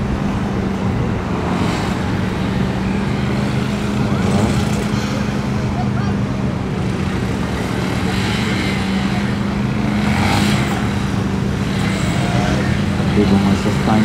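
A Geon Pantera N200 motorcycle accelerates through cones during a gymkhana run at the MGKC 2020 competition, its loud, steady engine drone rising and falling while someone talks over it.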